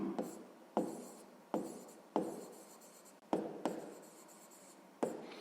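A fraction is written by hand with pen on paper during a sixth-grade maths exercise: a series of soft, close scratching strokes, each starting with a sharp tap and fading quickly, about eight in just over five seconds.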